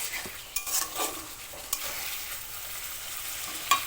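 Fried potato pieces are stirred in a hot pan with spices for a shol fish dish, giving a soft continuous sizzle broken by several scraping clacks of the spatula and no talk.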